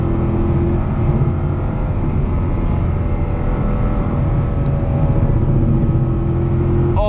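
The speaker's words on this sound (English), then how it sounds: "I barely ease into the throttle and we're just gone" A car accelerating under light throttle gives a steady, loud, unbroken engine and road roar heard from inside the cabin, holding an even level throughout with no voices.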